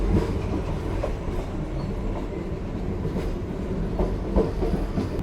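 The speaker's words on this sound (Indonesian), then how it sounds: "Persiapan masuk stasiun Perlanaan. Ini keretanya melambat." Aboard the Sribilah Utama passenger train as it slows into Perlanaan station, a low rolling rumble with rhythmic wheel clicks and faint metallic squeals continues steadily, without talk.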